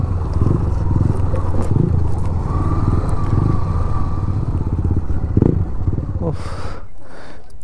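Off-road motorcycles fitted with knobby tyres ride by at an off-road training ground, their engines a loud and steady drone with passing surges and some clatter, while a voice talks briefly near the end.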